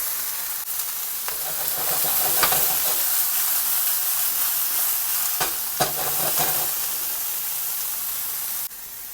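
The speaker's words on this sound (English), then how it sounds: "And I'm going to stir fry that for a few minutes." Steady sizzling of chicken pieces stir-frying in a hot pan, with occasional scraping clicks as it is stirred; no voices.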